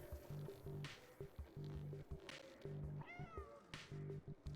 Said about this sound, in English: Doesn't know what the cat is.